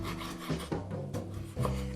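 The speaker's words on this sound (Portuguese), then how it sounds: "Vamos cortando tudo em tirinhas." A knife slicing chayote into thin strips on a board, giving a run of close, rasping cuts at an uneven rhythm with a few sharper strokes, no talk.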